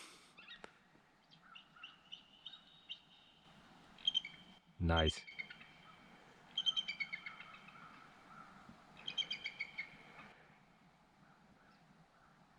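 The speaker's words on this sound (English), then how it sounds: "In case you wondered what a bald eagle sounds like, that's it." A bald eagle calling outdoors at a state park, a series of thin, high chirping and piping notes in short bursts, moderately distant, with a brief voice and a loud handling thump in between.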